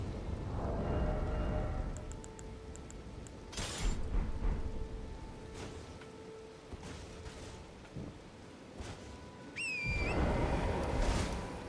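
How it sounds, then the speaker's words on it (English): Steady rain hisses in the always-raining Weeping Peninsula of the video game Elden Ring, with occasional thunder-like swells, faint chimes and a whooshing effect rising near the end. "It's always gonna rain here."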